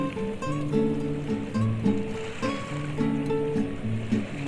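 Rushing floodwater roars steadily through Bustos Dam two days after Typhoon Uwan, a dense continuous wash of turbulent water with no pauses, heard close and loud.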